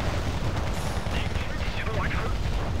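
Dense, continuous battlefield noise from the video game Wargame Red Dragon, with explosions and gunfire rumbling and crackling steadily throughout while someone talks over it.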